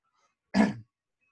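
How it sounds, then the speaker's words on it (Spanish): A single short, gruff throat-clearing cough, close and fairly loud, alone against silence. "tenía unas ganas de toser"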